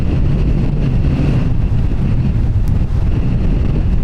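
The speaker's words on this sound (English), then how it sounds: "the breeze is, as you can hear there, is scheduled to pick up just a little bit for the next couple of hours" Strong crosswind gusting across a microphone at Dublin Airport, a loud, continuous low rumble of buffeting that holds steady for the whole stretch.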